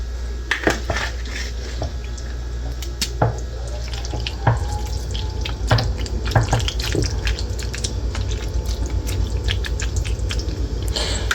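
A spoon mashing into a homemade chili mac casserole in a pot or dish gives close, wet squelching and sticky clicks that repeat irregularly over steady low kitchen background, with no talking.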